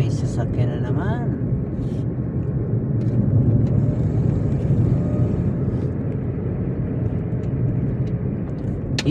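A vehicle rumbles through a running tunnel with a steady, loud, low roar sustained throughout, briefly topped by a faint high squeal near the start.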